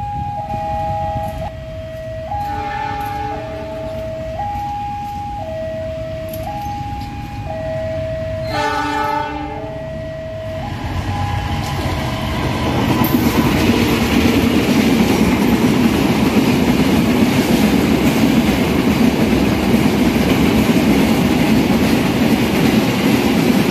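A train arriving at Blimbing station sounds a loud, repeated two-tone horn in long alternating blasts, then a heavy rolling rumble with wheel clatter swells as it draws near and passes.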